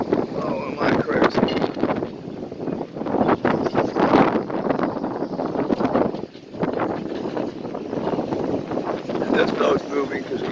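Strong wind from Hurricane Dorian roars and gusts in uneven bursts against the microphone, with rustling nearby and a boat moving, and a person speaks over it.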